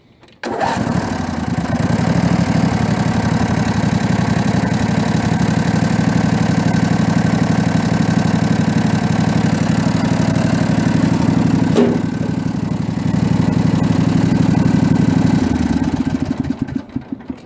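A Craftsman LT lawn tractor engine runs steadily and loudly up close, a continuous low mechanical drone holding for the whole stretch with a brief dip midway, no talking over it.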